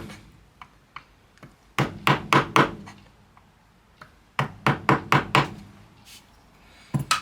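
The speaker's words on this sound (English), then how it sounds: "you just put your chisel in nice and straight and cut up to that back line" Chisel chopping across an ash mitre box, cutting up thin feathers: two bursts of four or five sharp, close wooden knocks in quick succession, with scattered lighter taps between them and no voices.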